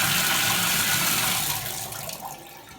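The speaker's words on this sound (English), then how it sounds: "We'll turn on the water here and just check this." Water rushes steadily from a newly installed shower faucet valve, a loud, broad hiss that eases slightly toward the end, close by with no voices.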